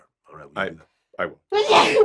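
A single sharp sneeze bursts out loud and close after a few short spoken words.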